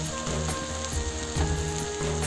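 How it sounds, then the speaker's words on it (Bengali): Jackfruit curry (echor kalia) sizzles steadily in a pan as it is sautéed, a dense frying hiss under a faint tonal hum, with soft periodic stirring pulses. "আমার কাঁঠালটা ভালো করে কষানো হয়ে গেছে"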